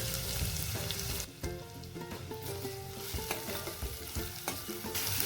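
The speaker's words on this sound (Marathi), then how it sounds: "कांदा पण गोल्डन रंग येईपर्यंत परतायचा आपल्याला." Finely chopped onion sautéing in a pan with spices, a loud continuous sizzle close up, broken by spatula scrapes and stirring knocks throughout.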